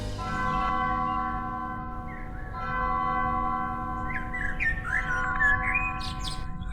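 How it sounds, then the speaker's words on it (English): Birds sing in the Undertale video game, light chirping phrases rising above a sustained, ringing musical drone with bell-like tones. "Birds are singing, flowers are blooming."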